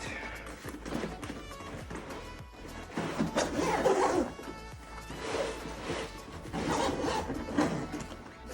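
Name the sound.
backpack zipper being closed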